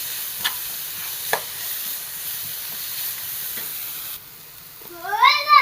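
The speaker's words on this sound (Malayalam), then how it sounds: "ഇതൊന്ന് എണ്ണയിൽ കിടന്ന് ഒന്ന് വേവണം" Masala fries in oil for a fish fry, giving a steady close sizzle with a few sharp utensil clicks, then a quieter moment and a short wavering tonal squeal at the end.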